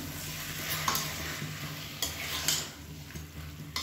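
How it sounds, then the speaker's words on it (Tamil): Spices sautéing in a pan for a Tamil home-cooked lunch, with a soft steady sizzle and several scraping stirs of a spoon against the pan, fairly faint and heard alone. "நல்லா ஒரு 5 நிமிஷம் அந்த இதிலே நல்லா வதக்கி வச்சுக்கலாம்"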